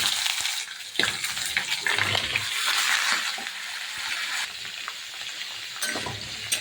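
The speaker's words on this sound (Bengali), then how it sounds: "এবার সবজিটা আমি দিয়ে দিচ্ছি, কেটে ধুয়ে বেছে রাখা যে সবজি" Cut vegetables for shukto land in a hot pan of oil with panch phoron and set off a loud burst of sizzling and crackling. Rustling stirs and clatters follow, dying down to a steadier fry.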